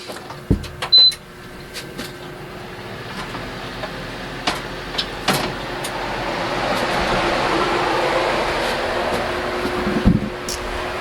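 A fan blows air in a screen printing shop, giving a steady broadband whoosh that swells gradually while scattered clicks and knocks sound over it.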